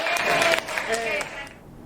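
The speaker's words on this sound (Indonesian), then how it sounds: "Tepuk tangan dulu untuk kita semuanya." Classroom students applaud together in a brief burst of clapping, dense and close, fading out after about a second and a half with faint voices underneath.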